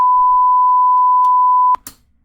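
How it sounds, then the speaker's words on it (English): Generated sine wave test tone from Audacity's tone generator, a pure steady beep held for under two seconds before cutting off abruptly, followed by faint clicks and near silence. "so now you have correctly generated a tone"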